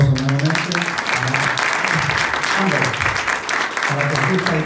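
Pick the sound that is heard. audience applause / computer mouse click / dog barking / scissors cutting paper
audience applause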